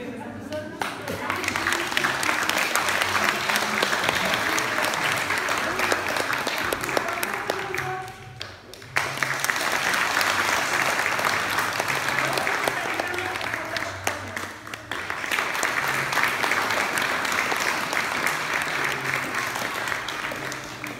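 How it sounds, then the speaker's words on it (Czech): Sustained audience applause at a lecture on the Brussels manuscript 9085, dense clapping that dips briefly twice and then swells again, with some voices mixed in. "Tak dlouho museli tleskat."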